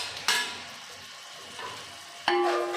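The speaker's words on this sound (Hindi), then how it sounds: "और अब हम इसको भूनते रहेंगे।" Small cubes of boneless chicken frying for a Sindhi chicken vegetable biryani: a quiet sizzle runs underneath, and a spoon stirring in the pan makes two sharp scraping clatters, one near the start and one near the end.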